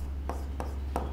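Chalk or marker strokes on a board during a Class XI mathematics lecture on sets: four short, scratchy taps spaced about a third of a second apart, close and quiet over a low room hum.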